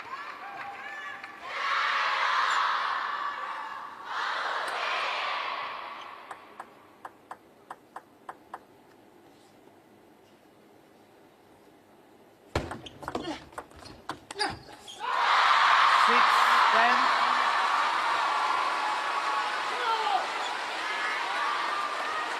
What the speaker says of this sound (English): The atmosphere in the crowd transformed.